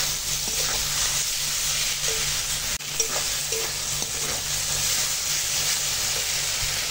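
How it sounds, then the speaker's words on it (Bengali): Spice paste with tomato, chili powder and salt sizzles and fries in a pan while being stirred, a loud, even hiss running throughout with a few soft stirring knocks and no voices. "এখন মশলাটা কষিয়ে নেবো"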